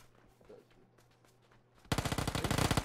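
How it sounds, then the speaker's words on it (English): Gunfire in the video game PUBG, quiet faint sounds giving way abruptly to a loud rapid burst of automatic shots that continues to the end. "Oh, I see somebody shooting,"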